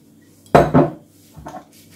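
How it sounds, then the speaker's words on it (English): A cooking pot clanks on a stove as olive oil is added: two close, loud metallic knocks followed by a softer clunk, with no talking. "I'm gonna put a little bit of olive oil in my heated pot"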